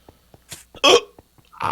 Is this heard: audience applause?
no